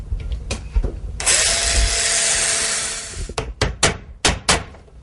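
A power tool fastens quarter round trim to a wall for a floor installation, giving a long steady whir of about two seconds, followed by several short sharp bursts and clicks close by.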